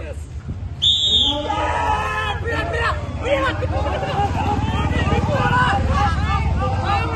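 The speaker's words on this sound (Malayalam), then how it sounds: "രണ്ടാമത്തെ വിസിൽ ടൈറ്റൻ ചെയ്യുന്നു." A referee blows one sharp, loud whistle at a lawyers' bar association tug of war during an Onam celebration. Steady crowd chatter and talking carry on underneath.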